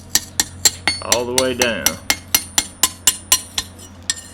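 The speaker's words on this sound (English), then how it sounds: "I hold my blade at an angle and come in here with the hammer at an angle, and I tap out that edge" A hammer taps the angled edge of a forged knife blade on an anvil in a blacksmith shop, about fifteen sharp, evenly spaced metallic strikes. A voice speaks briefly under the taps midway.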